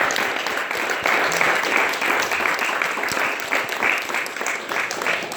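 A crowd at a divestment rally breaks into dense, sustained applause that fills the space and continues without a break, with scattered cheers mixed into the clapping.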